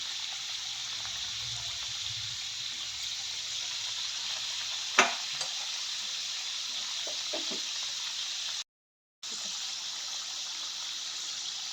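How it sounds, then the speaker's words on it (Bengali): Bhujia frying in hot oil in a wok gives a steady, close sizzle throughout, with a brief utensil clatter midway and a short silent gap near the end. "কড়াইতে তেল গরম করতে বসিয়েছি এইবার তেল গরম হয়ে গেল ভুজিয়াটা ছেড়ে দেবো"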